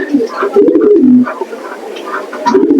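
Pigeons coo in a pigeon loft, their low throaty calls close and overlapping, with a voice speaking over them for much of the moment.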